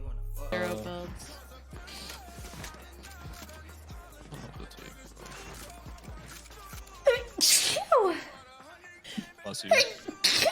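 A young woman streaming a game sneezes sharply, followed by a second sneeze a moment later, loud and close to the microphone, with chatter and game sounds around.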